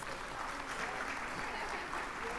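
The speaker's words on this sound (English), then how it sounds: "Keep clapping, keep clapping." Audience applause at a First Ladies summit hall as a guest of honour arrives, a dense, steady wash of clapping that stays loud and even throughout.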